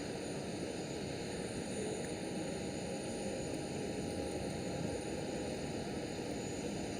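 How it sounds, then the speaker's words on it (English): An Airbus A321neo airliner arriving at Amsterdam Schiphol gives off a steady, broad engine roar at a distance, with a constant whine sitting above the rumble. "Very nice looking aircraft, the A321 Neo."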